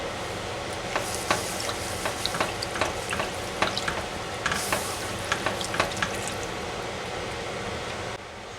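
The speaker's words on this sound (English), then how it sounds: "Next I'm going to add in 2 cans of evaporated milk." Evaporated milk poured into a hot pan of flour mixture for a chicken spaghetti casserole, sizzling steadily while a spoon scrapes and stirs in a run of sharp clicks, with no talking.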